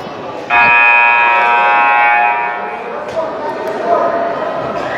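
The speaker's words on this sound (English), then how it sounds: "Buzzer to warn the game is about to be back on here." A loud electronic buzzer sounds at a high school basketball game, one sustained blare of about two seconds followed by the echoing noise of the gym.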